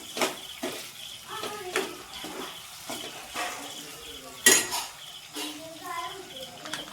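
Finely chopped garlic sautés in a pan for a restaurant-style crispy paneer starter, with spoon scrapes and clinks against the pan over a faint sizzle as someone talks throughout.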